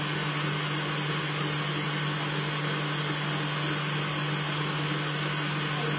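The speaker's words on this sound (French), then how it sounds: "donc là je bats" A steady electric mixer whirs continuously while beating cream or batter for a vanilla mango passion entremet, a constant motor drone with no talk over it.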